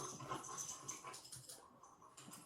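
A puppy whimpers softly indoors, a few faint whines scattered over low room noise with no talking.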